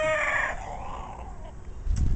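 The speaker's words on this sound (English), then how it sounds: "Boy, them Rhode Island Red got some funny sounds." Rhode Island Red chickens, heard close: a rooster's strained crow opens, then scattered clucks and low calls, with a thump near the end.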